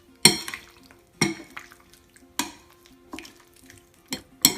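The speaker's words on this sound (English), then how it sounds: "Also add little salt and mix it all together." Chicken being mixed by hand or spoon with yogurt and salt in a bowl for a tikka marinade, heard as about six separate wet scraping strokes spaced roughly a second apart, close and otherwise quiet.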